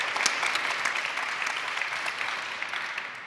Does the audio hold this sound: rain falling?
no